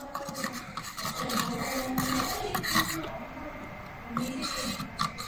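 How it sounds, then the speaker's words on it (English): Zinc powder being stirred into copper sulfate solution gives a continuous gritty scraping and rubbing in a beaker, steady and fairly close for the whole stretch, with no talking. "now we are adding the zinc powder into the copper sulfate solution and we are stirring"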